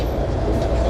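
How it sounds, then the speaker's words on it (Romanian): A Bucharest tram with an access ramp gives off a dense, continuous low rumble up close, loud and steady for a brief moment. "ăsta este un tramvai din cele câteva din București, care are și rampă."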